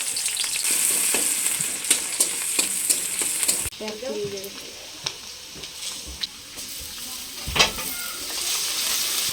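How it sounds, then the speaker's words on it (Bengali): Onion sizzles in hot oil in a pan, a loud, continuous frying crackle broken by repeated scraping stirs and the occasional knock of a utensil. "তেল, পেঁয়াজ দিলাম"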